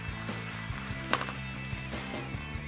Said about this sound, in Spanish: Salteamos esto un poquito más.